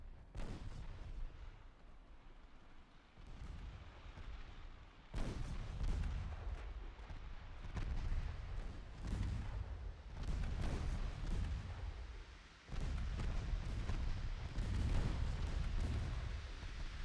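Naval gunfire from destroyers in the Ultimate Admiral Dreadnoughts game during a 1930 campaign battle, heard as repeated booming salvos and rumbling blasts over a continuous low roar, fairly faint overall.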